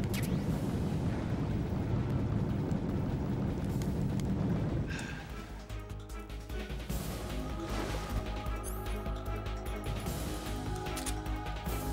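Grenade explosions in the Metal Gear Solid 3 video game: a loud, dense rumbling blast fills the first few seconds, then gives way to quieter game sounds and music.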